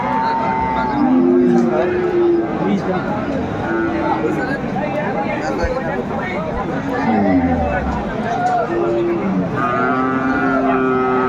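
Sahiwal cattle, bulls and calves, at a livestock market in Barishal, moo repeatedly in long drawn-out calls, some close and loud, others farther off, amid steady crowd babble and bargaining voices.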